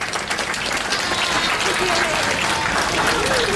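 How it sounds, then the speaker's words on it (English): A round of applause at an annual school banquet, steady and loud from a crowd throughout, with a voice speaking faintly underneath. "A round of applause for Brother Amjad."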